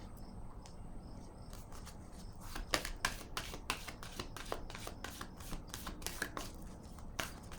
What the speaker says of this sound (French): Je vais déposer encore une carte ici.